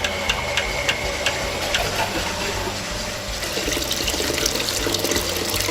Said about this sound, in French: Je redescends donc la deuxième partie pour rincer la machine.